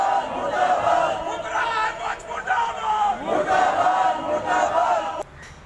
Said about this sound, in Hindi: आज बहुत ज़्यादा यहाँ पे भीड़ थी और काफ़ी जोश भी था